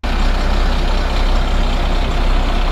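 Heavy trucks rumble with a loud, steady engine roar that holds without break, close by and dense with low growl.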